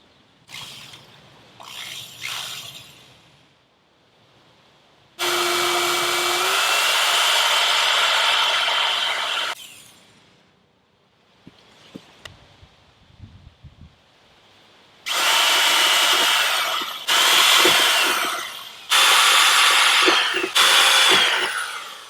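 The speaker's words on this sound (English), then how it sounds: "here comes the part where we actually have to drill into the Jeep" Power drill boring holes into a Jeep's body to mount a Garvin Wilderness Expedition roof rack, with several loud bursts of whining drilling separated by pauses, quiet handling noises and small clicks.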